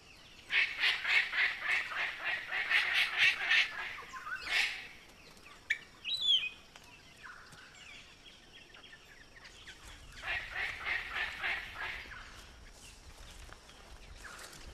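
Palm cockatoos call in an Australian rainforest, with bursts of harsh, repeated squawking notes alongside other bird calls, fairly close and clear, then a quieter gap and a further run of calls.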